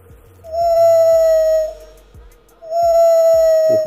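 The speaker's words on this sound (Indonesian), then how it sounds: "Oh, serigala." A wolf howl plays from a children's sound book: two long, loud, steady tonal howls, each about a second and a half, separated by a short gap, recorded close with faint clicks and handling noise beneath.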